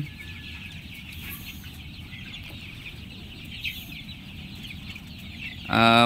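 Sonali chicks, 20 days old, cluck and chirp continuously at a moderate distance on a poultry farm, a busy flock chatter, with a brief louder clatter near the end.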